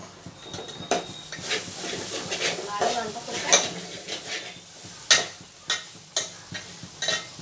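Spoon scraping and clinking in a pan while stirring cooked leafy-greens curry with coriander, soft sizzle underneath and a voice talking over it.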